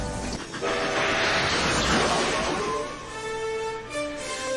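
A flying steam train in a Back to the Future Part III film scene chuffs and hisses with a rolling rail rumble, loud and continuous, punctuated by a few sustained whistle-like tones toward the end.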